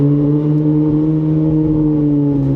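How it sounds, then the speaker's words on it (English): A Ferrari 458 Spider's exhaust holds a loud, steady high-revving howl from close by, its pitch sagging slightly toward the end, with no talk over it. "Now we can really hear that exhaust."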